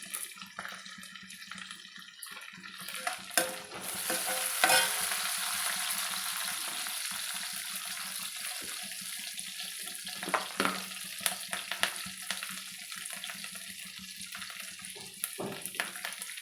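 Curry leaves crackle and sizzle in hot oil in a pan, a steady bright frying hiss with occasional scraping stirs and clinks, close and fairly quiet.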